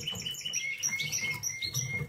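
Gloster Fancy canaries, a hen and her young bird, chirp in a steady run of short, thin high tweets with rustling and scratching below, close by and with no voices over them.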